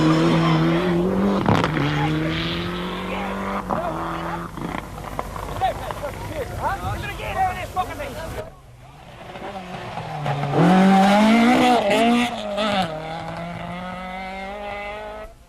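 A rally car races past with tyres squealing and the engine revving hard at the 1995 Donegal rally in Ireland, loud and close, fading then swelling again as another burst comes through.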